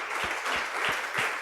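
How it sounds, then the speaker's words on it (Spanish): A church congregation applauds during a sermon, a smooth wash of many clapping hands at moderate volume, with a few low thumps recurring at a steady pace beneath it. "Denle un aplauso al Señor y a su palabra"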